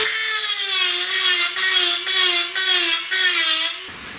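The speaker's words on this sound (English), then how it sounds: "I'm going to finish it up with the grinding drum. Good old Dremel tool." A Dremel rotary tool with a grinding drum finishes a hole cut with a hole saw for a Stutz Bearcat cyclekart sprocket part, whining steadily at a high pitch with brief dips as it bites, then stopping abruptly.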